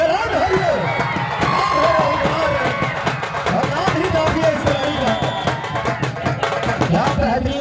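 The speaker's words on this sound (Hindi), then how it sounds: "अगर मजा आ रहा है तो जोरदार ताली बजा दें भाई।" A crowd at a final match between Chicholi Academy and Eklavya Academy claps and cheers loudly and steadily, with dense rapid clapping under constant shouting and babble throughout.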